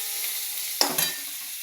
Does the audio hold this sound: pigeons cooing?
no